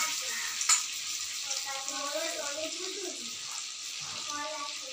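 Kakrol (spiny gourd) pieces fry in oil over a low-medium flame with a steady, close sizzle, while a voice talks over the hiss.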